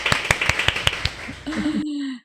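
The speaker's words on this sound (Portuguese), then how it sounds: "Uma salva de palmas." A short round of applause: several crisp, evenly spaced hand claps ring out close by, then fade as a voice begins speaking.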